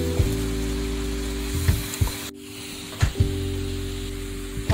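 Seasoned potatoes flipped in a hot pan beside marinated Pocheon-style beef ribs, giving a steady close sizzle broken by several sharp clattering knocks as pieces are turned.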